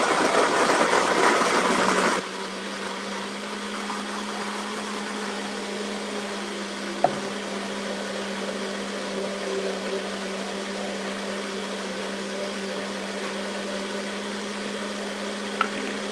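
A blender whirs loudly for about two seconds while mixing a yam salad dressing, then cuts off abruptly, leaving only a faint steady hum in a quiet kitchen.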